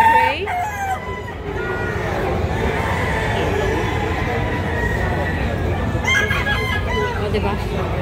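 Gray gamefowl roosters crow several times, with a loud crow opening and more crowing near the end, mixed with clucks over a steady low background rumble while people talk.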